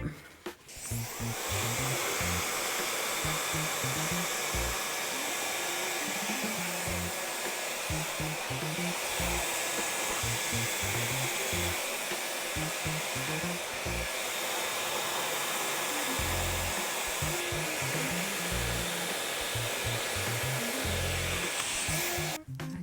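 A hair dryer blowing hair into a big, bouncy blow-dry at home, giving a loud, steady, close-up whir that runs almost without a break, with faint shifts as the airflow moves through the hair.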